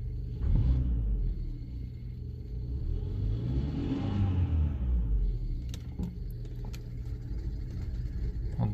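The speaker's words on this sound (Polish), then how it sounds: "Tak, no brzydko pracuje ten silnik." A BMW N43/N53 petrol engine rumbles close by at low revs, idling roughly after a piezo injector replacement, rising and falling unevenly with a brief swell in the middle, rough and unsteady throughout.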